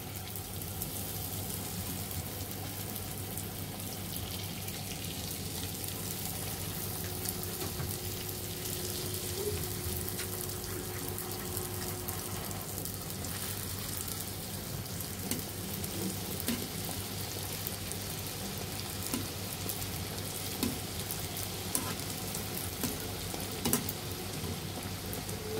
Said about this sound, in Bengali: এভাবে আমরা সবটি ফুচকা ভেজে নিব।